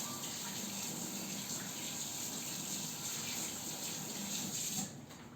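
Running tap water pours steadily in a home kitchen while food is rinsed under it during köfte preparation, a continuous close gush that drops away near the end.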